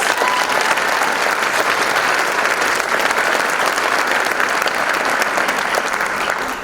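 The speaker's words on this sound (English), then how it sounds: "Let's give all of our contestants and candidates another round of applause." Steady audience applause fills the hall at the 2019 Miss Door County Pageant, a dense, even wash of clapping from many hands that holds at full strength throughout.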